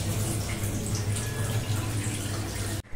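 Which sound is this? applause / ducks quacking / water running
water running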